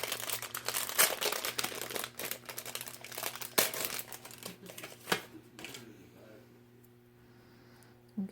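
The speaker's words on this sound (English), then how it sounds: "I'm going to use the red tape, put it on the back of here for now" Red tape being pulled, crinkled and pressed on by hand, a close run of papery crackles and sharp ticks that thin out toward the end, with a low background hum.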